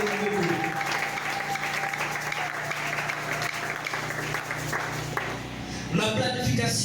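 A church congregation applauds in a worship service, a sustained wash of many hands clapping close and loud, with voices and a low tone mixed in and a swell near the end.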